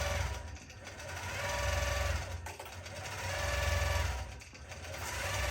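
An embroidery sewing machine stitches out a mermaid tail scale pattern in a steady, fast, continuous mechanical whir that stays close and even throughout, with no talking.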